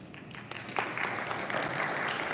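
Applause from a town hall audience at a Brooklyn Community Board meeting, swelling from scattered claps into sustained clapping from a moderate crowd in an indoor hall.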